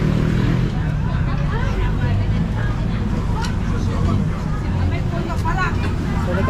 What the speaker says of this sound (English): there are vehicles around the place